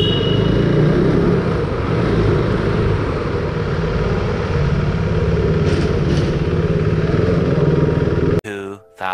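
A KTM RC390 motorcycle engine drones loud and steady while riding from Bathinda to Amritsar, with wind roar and a sudden cut near the end.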